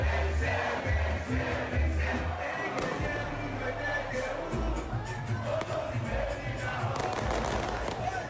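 Football fans roar in a celebration after a trophy win, a dense, loud and steady crowd din that fills the whole stretch with no break.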